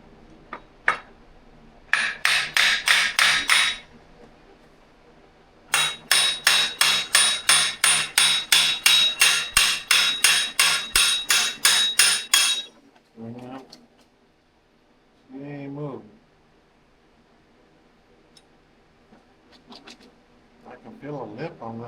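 Repeated metal hammer blows on a motorcycle fork during a Ridstar Q20 Plus fork install, struck in two fast, steady runs of sharp, ringing hits, followed by brief voice sounds and scattered light knocks.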